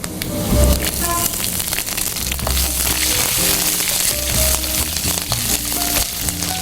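Green chilies frying with chana dal in a hot pan, a dense continuous crackling sizzle like rain on a surface, with occasional stirring scrapes and no speech.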